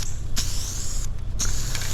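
Spray paint hissing from an aerosol can onto a car outdoors in wind, a steady close hiss with two brief pauses between bursts, over low rumbling wind noise.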